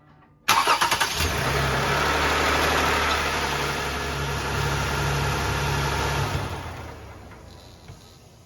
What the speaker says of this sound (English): Start the engine and let the oil circulate for a few seconds just to fill the oil filter housing